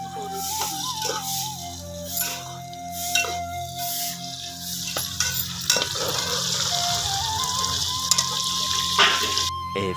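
Onions fry for a bitter gourd curry in a village kitchen in Pakistan, a steady close sizzle in the pan with occasional stirring scrapes and clinks, with no talking.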